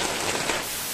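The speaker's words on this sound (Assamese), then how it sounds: "বৰষুণ পৰাৰ কাৰণে বেছি ভাল লাগি আছে" Rain patters steadily in a forest in Bhutan, a close, even wash of drops striking leaves and surfaces for about a second, with no voices.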